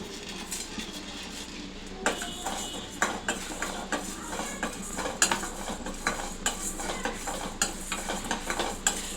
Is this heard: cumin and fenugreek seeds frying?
yes